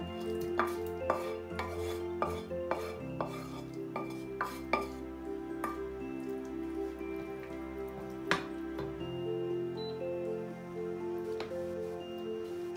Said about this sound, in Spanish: Echamos el sofrito en la sepia que hemos cocido un poco